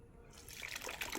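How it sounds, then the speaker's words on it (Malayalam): Wet, trickling liquid sound of thick mud being poured into a pot for planting a lotus tuber, a short gloppy pour that grows slightly louder toward the end. "ഇതിലേക്ക് കുറച്ച് ചളി ഒഴിക്കാം"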